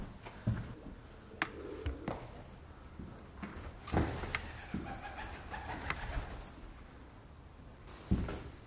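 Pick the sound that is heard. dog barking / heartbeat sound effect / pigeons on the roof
pigeons on the roof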